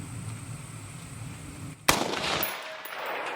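A .223 rifle shot strikes Tannerite explosive outdoors, setting off one sharp, loud blast after a quiet moment, followed by a rumbling decay.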